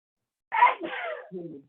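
One close sneeze with a sharp burst and a trailing breathy tail, alone in a quiet room.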